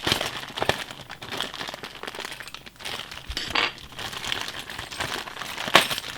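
Plastic parts bag from a Tamiya Volvo FH12 Globetrotter 420 model truck kit being torn open by hand, close crinkling and crackling with sharp rips and a bright clink near the end, no speech.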